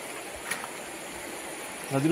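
A swollen village river in the Konkan runs high and muddy after light rain, giving a steady, close rushing wash of water, with a faint voice rising briefly near the end.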